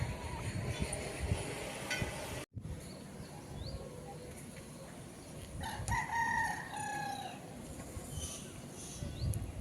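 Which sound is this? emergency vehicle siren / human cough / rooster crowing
rooster crowing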